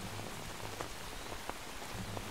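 Rain falling in the video game Metal Gear Solid 3: Snake Eater, a quiet, steady hiss of drops with faint scattered patters on surfaces throughout.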